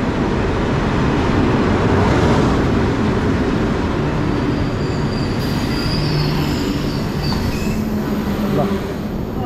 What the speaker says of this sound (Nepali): केटिएक्स ट्रेन आयो बत्ती बाल्दै आएको छ